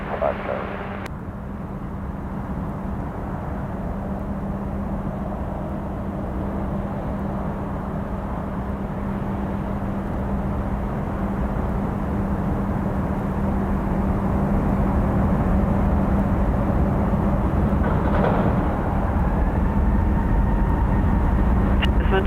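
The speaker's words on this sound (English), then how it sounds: "Emirates 5 Charlie Lima, runway 16 right, cleared for takeoff." Emirates airliner taking off from runway 16 right at Sydney Airport, a steady low jet roar that builds gradually over about twenty seconds, with people talking over it.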